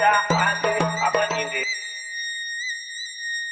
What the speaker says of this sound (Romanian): Beat-ul se termină cu o notă a synth-ului cu delay pe ea.